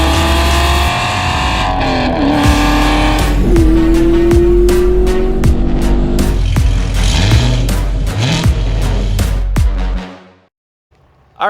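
A Chevrolet Corvette C8 Z06 with the Z07 carbon fiber package drives hard, its loud engine climbing and dropping through several shifts in a sustained roar with sharp pops, then cutting off abruptly near the end.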